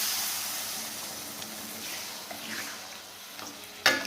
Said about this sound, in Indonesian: Kita masukkan airnya sedikit aja dulu,